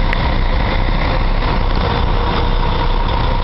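A Comil Campione DD double-deck coach runs its engine with a steady, loud, low diesel rumble that continues throughout, with no talk over it.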